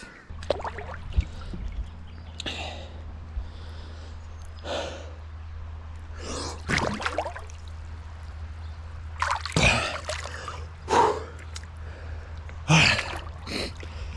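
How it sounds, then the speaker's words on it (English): Water splashes in a cold creek as someone takes a morning plunge, with scattered close bursts of sloshing and sharp breaths over a low steady background hum. "Just doing my morning creek plunge."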